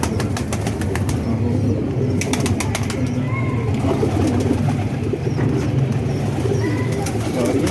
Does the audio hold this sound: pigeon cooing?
yes